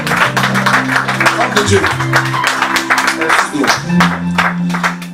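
A church congregation claps along during worship as people sing and talk, with sustained singing and speech over rhythmic hand claps throughout.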